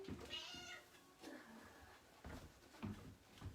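A cat meows repeatedly to be let in, several short, faint cries at intervals in a quiet indoor room, with no talking over them.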